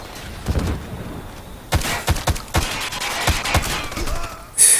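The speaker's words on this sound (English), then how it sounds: "I got shot at a little bit there" Gunfire in the tactical shooter Ghost Recon Future Soldier: a loud volley of rapid shots, then irregular single and burst impacts at mid distance over a steady in-game background rumble.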